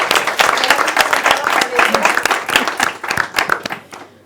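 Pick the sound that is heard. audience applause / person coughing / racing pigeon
audience applause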